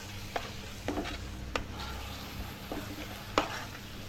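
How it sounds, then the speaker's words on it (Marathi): Spices being stirred into a prawn biryani masala in a home kitchen, a few soft scraping strokes with faint sizzling beneath, steady and close, no talking. "आता हे सर्व मसाले आपल्याला एकजीव करून घ्यायचे"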